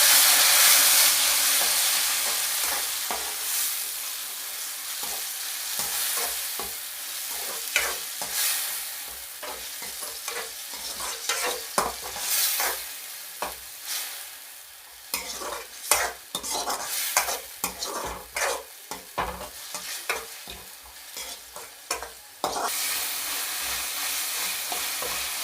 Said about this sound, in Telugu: ఇప్పుడైతే టమాటా అయితే కన్నా బాగా వేయించుకున్నాను